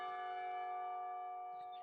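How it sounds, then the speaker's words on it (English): Clock tower bells in the Katawa Shoujo visual novel ring out in a sustained, resonant peal, rich overtones holding steady before slowly fading, with no voices present. "The clock tower bells ring, signaling the end of the period"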